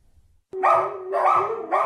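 Dogs bark at the Battersea Brands Hatch rehoming centre: after a brief silence, three loud, close barks in an uneven rhythm, with no voices over them.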